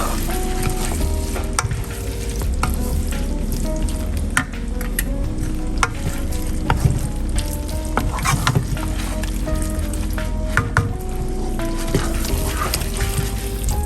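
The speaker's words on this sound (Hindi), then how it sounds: "अच्छी तरह से मिक्स कर लेंगे हर चीज़ को।" Maash daal being stirred and mixed in a sizzling pan with ghee, green chillies and fresh coriander, a steady loud frying hiss with scraping stir strokes throughout, no talk.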